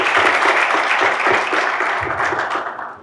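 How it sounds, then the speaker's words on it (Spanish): An audience claps for a speaker at an urban mobility seminar, a dense burst of applause that holds steady and then begins to thin out toward the end. "Les pido un aplauso para Juan Carlos"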